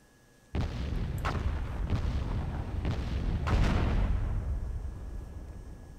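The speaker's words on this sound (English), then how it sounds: "Okay, something exploded." A loud explosion in the WWII mod of the strategy game Myth II: Soulblighter, with an abrupt onset followed by several heavy booming blasts and rumbling debris that slowly tails off.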